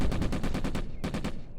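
Rapid bursts of infantry gunfire in the World War II video game Combat Mission: Afrika Korps, two quick strings of sharp, evenly spaced shots separated by a brief gap, loud and close.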